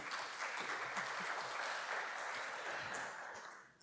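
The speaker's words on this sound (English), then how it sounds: "Applause, please." Quiet applause from a conference audience greeting a new panel moderator, a soft even patter of clapping that holds steady and fades near the end.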